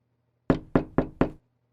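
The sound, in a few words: knocking on an apartment door, audiobook sound effect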